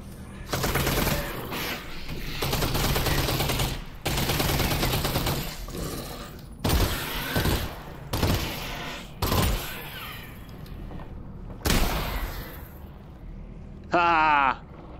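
Gunfire in the VR game Half-Life: Alyx, loud repeated bursts of shots filling most of the stretch, broken by a few brief pauses and ending in a short sharp tail.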